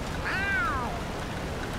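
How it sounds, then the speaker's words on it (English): Gary the snail from SpongeBob Battle for Bikini Bottom gives a single short, clear meow, a rising-then-falling cartoon cat cry over steady game background noise. "Meow."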